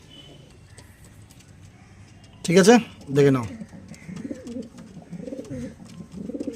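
Pigeons at a pigeon sale coo softly in low repeated bursts, close by, while people talk loudly over them in the middle of the scene.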